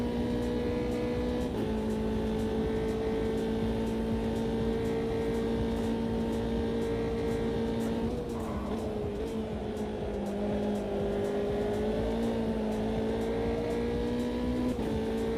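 Race cars in the Automobilista 2 video game drone with a steady high engine whine running continuously, dipping and shifting pitch at gear changes and as another car draws close in the slipstream.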